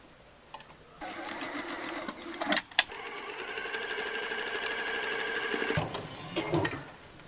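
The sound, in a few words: sewing machine back stitching a bottle carrier handle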